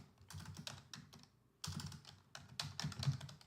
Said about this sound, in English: I'm going to type in Emma Johnson